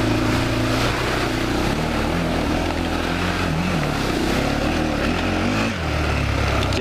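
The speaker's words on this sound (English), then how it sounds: "I think it almost sounded like my exhaust was underwater." A loud, continuous Honda 400EX ATV engine roar with a deep rumbling, bubbly drone that shifts in pitch as the exhaust runs through trail puddle water, with no talking over it.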